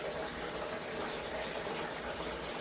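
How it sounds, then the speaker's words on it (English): A steady, quiet rush of water draining from an aquarium tank through tubing into a sink, flowing continuously, with no talking and no change in level throughout. "I'm going to test that too just by draining the top part of the tank into the sink."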